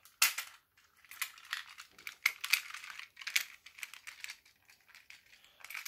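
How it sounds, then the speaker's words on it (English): Plastic arms of a Transformers G1 Soundwave toy being moved and snapped into place, a run of sharp, close, quiet clicks and plastic rattles at an irregular pace, with no voices. "So you move the arms back until you hear a click."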